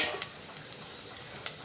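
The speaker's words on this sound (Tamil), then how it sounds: "அதையும் போட்டு நல்லா வதக்கிக்கோங்க." One chopped green chili sautéing in a pan for a spinach stir-fry, a soft, steady sizzle with a couple of faint stirring clicks, close by and quiet.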